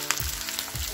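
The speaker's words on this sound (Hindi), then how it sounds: "मिर्ची हो गई है, अब हम इसमें पत्ता गोभी ऐड कर देंगे" Finely chopped, washed cabbage tipped into hot oil with fried chillies for a cabbage sabzi, giving a loud burst of sizzling with two quick crackling surges in a one-second span.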